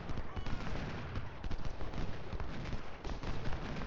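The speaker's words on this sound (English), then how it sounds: "all the artillery is firing on Crocker" Artillery fire in the Civil War strategy game Ultimate General Civil War at the Clash at Corinth: dense, steady crackling volleys and booms that overlap continuously with no pause, like a distant fusillade.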